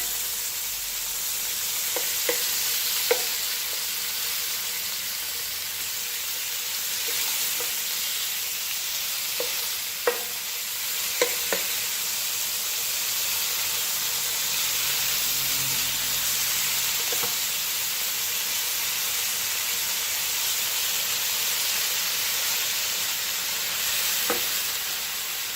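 Steak pieces sizzle and fry steadily in a pan for steak and peppers, a constant broad hiss with a few light clicks and scrapes, alone with no talking.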